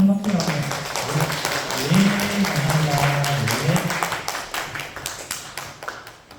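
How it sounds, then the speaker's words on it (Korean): Audience applause at a regional disability welfare budget report event in Gyeongsangnam-do, a steady crowd clapping that runs for several seconds and fades toward the end, with a voice and some background sound mixed underneath. "큰 박수로 감사합니다."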